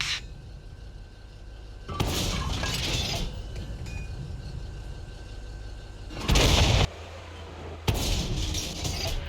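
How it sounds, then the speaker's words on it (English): Tank shells penetrate armor in World of Tanks Console with a Leopard 2A4: sharp metallic impacts and crashing bursts strike in a few separate loud blasts between quieter stretches of game ambience. "我穿透了他们的装甲。"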